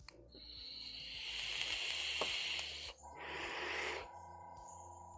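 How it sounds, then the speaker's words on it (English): A Badger airbrush with a 0.5 mm nozzle blows air to clear its chamber: a loud, steady hiss for about three seconds, a short gap, a second sustained burst, then a brief faint puff. "Just making sure my airbrush chamber is clear"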